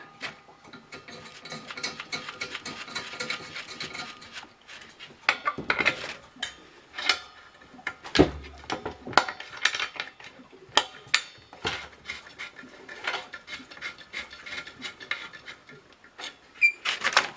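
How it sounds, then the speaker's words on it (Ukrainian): Metal lid set onto a stainless steel still boiler filled with grape-pomace mash and a steam dome fitted, giving scattered clanks, scrapes and ratcheting metallic knocks, close and fairly loud, with no talking. "накриваємо кришкою, встановлюємо сухопарник"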